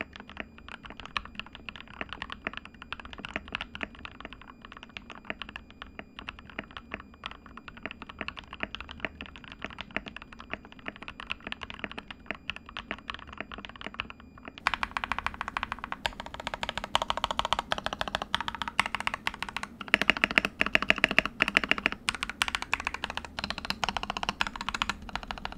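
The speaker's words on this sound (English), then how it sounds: "I'm gonna show you guys how the keyboard sounds after I've done everything to it." Steady rapid typing on a PewDiePie K1 Pro mechanical keyboard, close up, with dense clacking keystrokes that grow louder and busier partway through.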